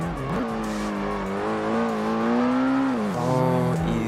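Ford GT90 engine in Ford Racing drones loudly and steadily, with pitch swelling and dropping as the car slides around, close and continuous.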